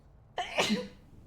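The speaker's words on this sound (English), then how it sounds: "Sneeze." A single sharp sneeze bursts out close by, then fades into quiet.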